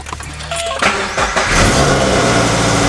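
A Subaru BRZ engine with a leak cranks briefly, catches, and roars to life, settling into a loud, rough idle close by.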